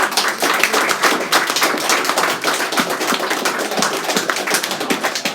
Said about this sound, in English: So I'd like another round of applause, please, for the 4 speakers.